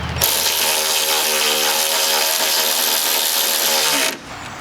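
A power tool runs steadily for about four seconds, driving a bolt back in while an AC suction line is replaced on a 2006 Nissan Altima, then cuts off abruptly.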